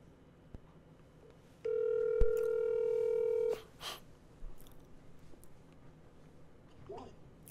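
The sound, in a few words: telephone dial tone while placing a call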